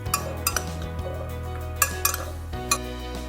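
Golden beets being stirred with olive oil in a metal bowl or pan, with sharp clinks and scrapes of a utensil against metal at irregular intervals over a low resonant ring, with no talk.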